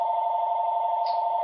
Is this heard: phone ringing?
yes